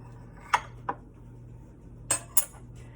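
A knife cuts jackfruit pieces into four on a board, four short, sharp taps and clicks spaced apart against a quiet background hum, fairly close.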